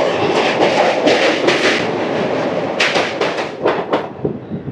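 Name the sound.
Simhadri Express train running on rails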